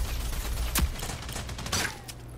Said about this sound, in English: I'm just not used to using that grenade launcher like I used to be